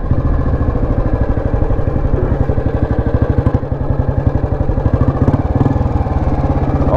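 Restored 2004 Royal Enfield Bullet Standard single-cylinder engine thumping steadily while riding at around 80 km/h, a loud, close, rhythmic exhaust beat throughout with no speech.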